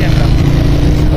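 Motorbike ridden fast through rainy Karachi weather, a loud continuous engine roar with wind rush, steady throughout.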